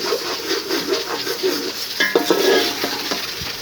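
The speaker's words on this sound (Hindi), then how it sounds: "चिकन मैंने सारा इसके अंदर ऐड कर दिया है। इसको अब हम मिक्स करेंगे इस तरह से।" Chicken stirred into fried masala in a pot for degi-style haleem, with scraping utensil strokes and clinking against the metal over a steady sizzle.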